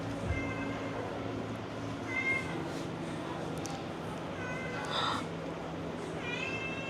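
A hairless cat gives several short meows, one after another, over a faint background hum, with light speech in between.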